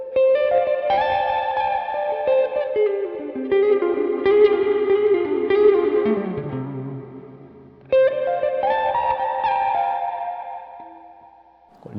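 Electric guitar run through heavy reverb from a Casio Dimension Shifter strap-mounted effects controller, playing sustained, ringing solo notes that bend and slide, with a fresh attack near the end and a long, washy tail fading out.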